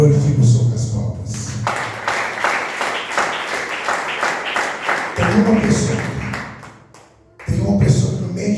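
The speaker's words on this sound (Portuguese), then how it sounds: "Glorifique o Senhor com as palmas." A church congregation at a Wednesday evening service claps their hands in praise, a steady crowd patter running for several seconds beneath a preacher's loud speaking, which breaks in again near the end.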